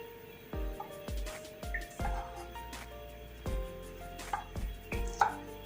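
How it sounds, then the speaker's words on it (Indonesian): A knife chops garlic cloves and chili on a cutting board, about ten hard, evenly spaced thuds close by with light clatter between strikes, no talking. "Bumbunya cukup dicincang aja teman-teman"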